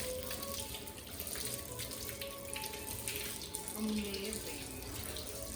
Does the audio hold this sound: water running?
yes